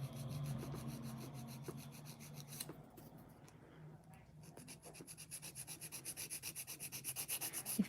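A nail file rasping back and forth across a fingernail, close and fairly quiet, with a steady run of quick rubbing strokes that grows more rhythmic toward the end, with no talking.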